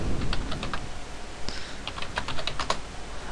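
Rapid clicking of keys on a computer keyboard as a name is typed in, a close, steady patter of individual keystrokes with no voices.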